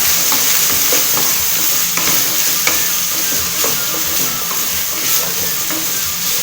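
Snake gourd fries in oil over a high flame, making a loud, dense, unbroken sizzle with intermittent stirring scrapes and taps close by, and no voices.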